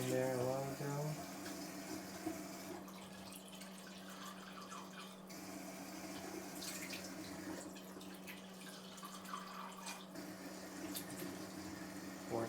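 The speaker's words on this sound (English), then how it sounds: "Drinking water come down." Water runs steadily from a Tyent ACE-11 water ionizer into a sink, a quiet continuous trickle and splash at close range, with faint handling noises and brief tones at the start.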